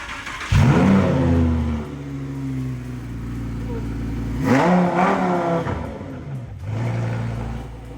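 A Lamborghini Huracan engine starts with a sharp bark and settles into a rumbling idle. It revs up again in a loud rising sweep, drops back and then swells once more, all close by.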